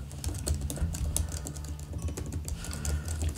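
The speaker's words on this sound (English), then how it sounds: "Typing feels a little bit shallow." Fingers type on the keyboard of an MSI GF66 Katana gaming laptop, a quick irregular patter of soft, shallow key clicks close up, continuing alone without speech.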